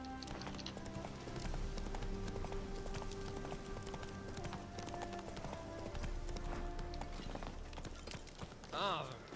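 Roach, the horse in The Witcher 3: Hearts of Stone, gallops with quick, rhythmic hoof clip-clops that run steadily throughout, mixed with other game sounds and a brief whinny near the end.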